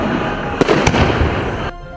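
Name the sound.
fireworks salute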